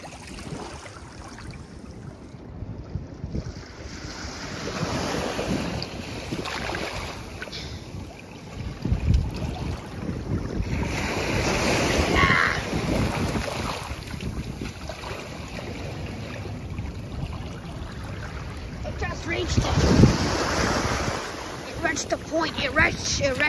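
Ocean waves break on the beach at Avon-by-the-Sea, a continuous roar of surf that swells and surges with each incoming wave, mixed with wind buffeting the microphone.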